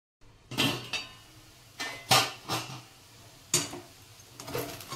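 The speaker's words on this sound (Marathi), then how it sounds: "तर हे 2 मिनिटं अजून झाकण ठेवतो मी." A metal lid set onto a pot of cooking sabudana khichdi, giving several close, sharp clanks and rattles in short bursts, each ringing briefly before fading.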